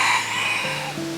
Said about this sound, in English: There's a rooster on our path walking towards us.